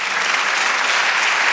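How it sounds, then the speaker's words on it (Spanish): Steady applause from a church congregation, dense and even throughout with no pauses, fairly loud and close. "Dale un aplauso al Señor."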